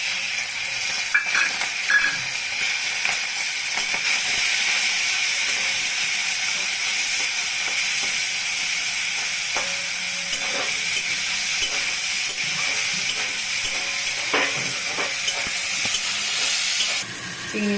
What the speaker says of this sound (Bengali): তেলটা গরম হয়ে গেছে এখন আমি চিংড়ি মাছটা দিয়ে দিচ্ছি